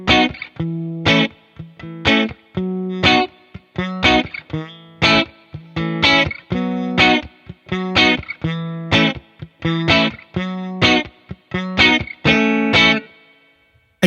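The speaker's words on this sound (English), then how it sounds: "I want to hear the reverb through the cabinet" Electric guitar played through a free amp simulator with reverb placed before the cabinet, distorted chords and notes struck in a steady rhythmic pattern, each hit ringing briefly before sharp gaps, loud and alone.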